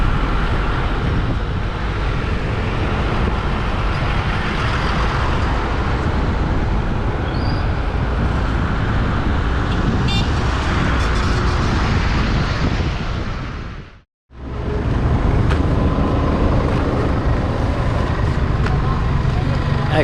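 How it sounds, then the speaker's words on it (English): A vehicle driving on a road out of Phonsavan, Laos, with constant engine and road rumble mixed with heavy wind buffeting, cutting out briefly near the end before resuming. "Just driving out of Phonsavan now."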